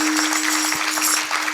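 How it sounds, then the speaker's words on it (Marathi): A crowd at a kirtan claps together in a brief, dense burst of applause. It sounds fairly loud and continuous, with a steady low hum beneath it. "टाळी वाजू."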